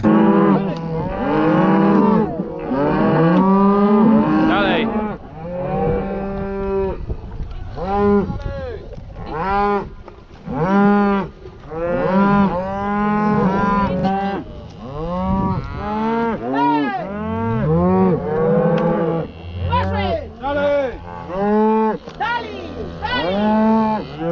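Cattle moo repeatedly during a cattle drive for veterinary blood sampling and vaccination, overlapping loud calls from several cows and calves, some close and some farther off, continuing throughout.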